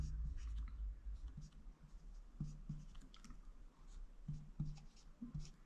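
Pen or marker strokes while a calculus derivative equation is written out, a close, quiet series of short scratchy taps and scribbles in irregular bursts.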